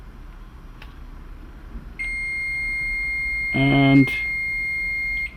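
A multimeter on diode check across a shorted bridge rectifier in a Hisense LCD32W57 power supply gives a steady, continuous beep from about two seconds to the end, with a brief spoken word partway through.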